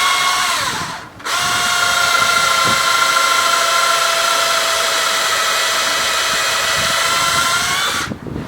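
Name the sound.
drill boring pocket holes with a Kreg jig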